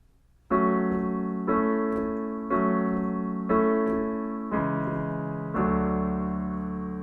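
Piano chords from the verse and intro of a song, each struck firmly and left ringing, six sustained chords in an even, moderate rhythm with no voices.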